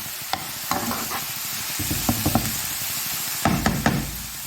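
Onions frying in ghee are stirred in a pan, with a steady sizzle and several sharp spoon scrapes and knocks against the pan, first early and then again near the end.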